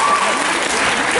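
A concert audience in Aix applauds in a dense, steady wash of clapping that stays loud and even throughout the brief stretch.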